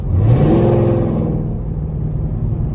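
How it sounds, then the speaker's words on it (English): A Chevrolet Camaro passes on the highway, its engine rising into a loud, close whirring rush that peaks early and then fades into a lingering rumble. "here goes another Camaro"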